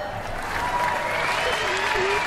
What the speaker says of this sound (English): The crowd of dolls is laughing and cheering.